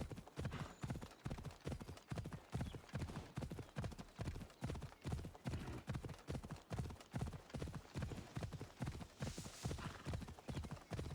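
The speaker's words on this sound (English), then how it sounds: "Why did the horse run that far away from me?" Steady, even clip-clop of a horse's hooves trotting in the video game Assassin's Creed Odyssey, a quick regular rhythm of hoofbeats that continues throughout at moderate, fairly close volume.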